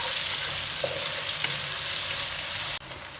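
Finely chopped medium onions fry in hot oil for a dhaba-style chana dal, giving a steady, loud broadband sizzle throughout, with a brief dip near the end before the frying noise resumes.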